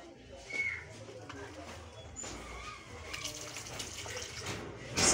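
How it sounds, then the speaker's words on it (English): Water is poured onto sliced pieces of ingredients in a blender or grinder jar while preparing an immunity-boosting juice, a soft close trickle and splash beneath background noise. "So we shall add some little water to help the other those grinding stuffs"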